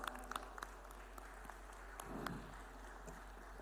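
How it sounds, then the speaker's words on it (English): Audience at the BioAsia 2025 conference inauguration giving a round of applause, a fairly soft, distant patter of clapping over a steady low hum, with a few sharper claps near the start. "Ladies and gentlemen, a huge round of applause."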